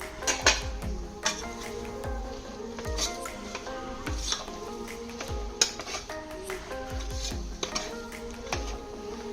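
Repeated metallic scraping and clinking of a utensil stirring a jackfruit curry with masala in a pan, irregular strokes close up with a faint sizzle underneath.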